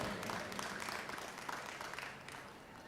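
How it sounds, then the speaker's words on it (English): A crowd at a junior livestock show claps for the beef showmanship participants, a fairly faint, steady patter of many hands lasting the whole stretch without letting up. "let's give them another round of applause"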